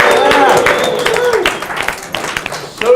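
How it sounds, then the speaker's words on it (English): Audience applause at a grand reopening preview event at the Cartoon Art Museum: a dense, steady wash of clapping from a room of people, loud at first and thinning slightly toward the end, with some crowd voices mixed in. "Give yourselves a round of applause for coming out tonight."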